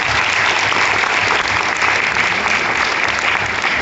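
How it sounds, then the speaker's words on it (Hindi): An audience applauding at a talk on venture capital and startup investing: dense, loud, continuous clapping that holds evenly throughout, with no speech over it. "तालियां उसके लिए हैं।"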